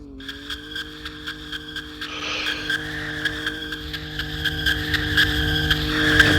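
A 2021 Falcon Stallion EcoBoost car launches in second gear in the Roblox game Greenville: a tonal engine note climbs steadily in loudness, with repeated ticking clicks and rising squeal-like overtones, no speech.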